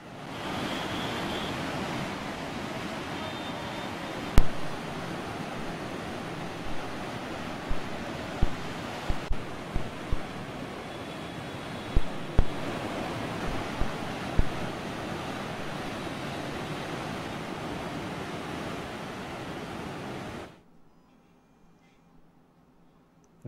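Water discharging through the opened gates of the Kota barrage, a steady broad roar of rushing flow with occasional thumps, continuing for about twenty seconds before cutting off abruptly.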